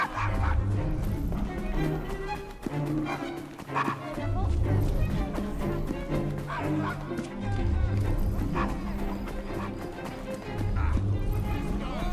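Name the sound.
dog barking in Assassin's Creed Syndicate video game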